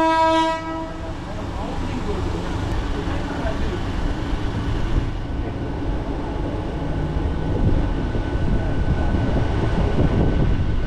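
A Digha Rath Yatra special train runs along its line with a steady rumble and clatter of wheels on track, opening with a loud horn blast and sounding from inside a carriage.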